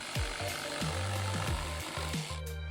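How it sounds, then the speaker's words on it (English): A circular saw cuts boards off a wooden pallet, its motor droning low and dipping in pitch with each pass through the wood in a short series of close, repeated cuts. "we're gonna take the circular saw or jigsaw, if that's what you have, and cut across the line we made on the left side and then on the right side"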